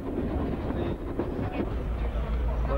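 A passenger train runs on the Dartmouth Railway, heard from inside a carriage as a continuous low rumble with rhythmic wheel clatter over the rails. Faint voices sit in the background.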